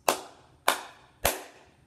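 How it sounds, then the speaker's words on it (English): Children clap their hands together three times in unison, evenly spaced sharp claps that ring out clearly, each decaying briefly before the next. "I want you to clap together 3 times"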